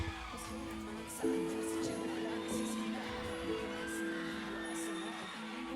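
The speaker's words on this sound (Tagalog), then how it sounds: "Grabe yung hiyawan." A large crowd screams and cheers at a BINI performance on ASAP, a loud sustained roar with tonal music underneath, whoops rising over the din throughout.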